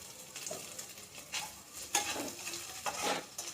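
Boiled bhola fish mashed with garlic and chillies, heard as quiet, irregular pressing and scraping strokes of a utensil against a pan or bowl, with faint sizzle-like hiss between them.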